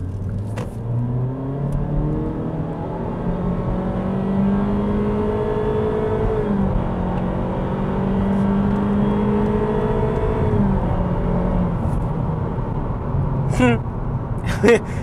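A 2022 Honda Civic Sport with a 1.5-liter engine accelerating onto a highway, heard from inside the cabin as a steady engine drone rising through the gears, with road rumble throughout and brief clicks near the end.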